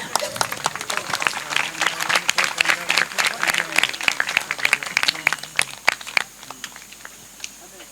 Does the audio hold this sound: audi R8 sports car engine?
no